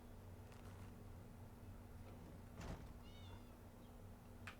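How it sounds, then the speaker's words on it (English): A cat meows in the video game Elder Scrolls Online, a couple of short, faint mewing calls over a steady background hum of game ambience. "And there's a kitty cat playing"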